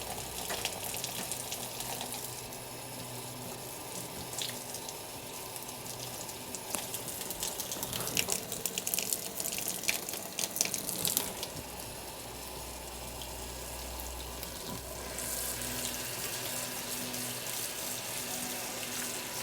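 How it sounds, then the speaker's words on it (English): A steady jet of water rushes from a tap onto horse grooming brushes, rinsing the soap out; the continuous spray hisses broadly and loudly, with rattling splashes as the brushes are moved under the flow. "I have a nice jet of water"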